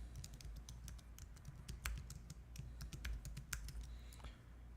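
A name is typed on a computer keyboard as a quick, uneven run of close, crisp key clicks over a low background hum, with no one speaking.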